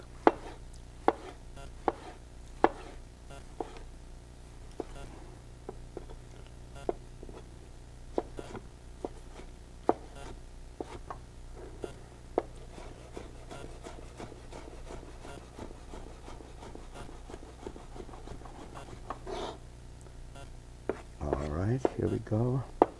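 A kitchen knife chops tomatoes on a cutting board, a steady run of sharp, close taps spread across the clip, with a brief burst of clatter near the end.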